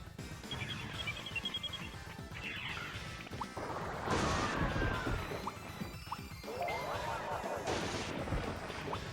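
Magma Bomb attack from the video game Digimon World 1: a run of crashing, blasting impacts with sharp whacks. Two louder explosive bursts stand out over a steady rumble of battle effects.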